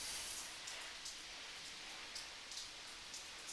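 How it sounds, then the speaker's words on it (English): Heavy rain pours steadily outdoors, a dense continuous hiss with scattered sharper drops and splashes, fairly faint and with no voices over it. "It's pouring with rain here at the moment, as well, on game and in real life, or offline and online."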